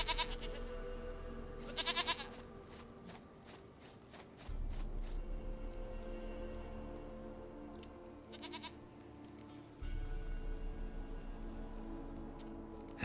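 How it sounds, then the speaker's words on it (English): A goat bleats in the Witcher 3 video game, several short wavering bleats at around two, eight and a half and twelve seconds over a steady low game ambience with hoof-like clopping; no talk. "Goat of mine, dearest, sweetest goat."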